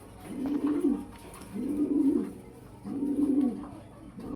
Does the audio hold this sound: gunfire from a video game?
no